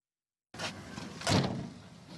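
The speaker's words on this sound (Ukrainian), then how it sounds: "після того як грюкнули двері маршрутки" A minibus (marshrutka) sliding door slams shut: a muffled rolling rush ends in one firm, nearby thud, with street ambience before and after.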